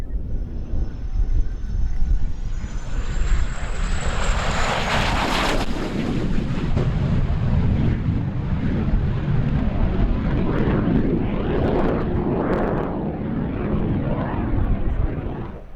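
A MiG-17 jet fighter flown by Randy Ball at the EAA AirVenture Oshkosh 2023 airshow: a loud, sustained jet roar with a high whine rising early on, then a broad rumbling wash buffeted by wind on the microphone.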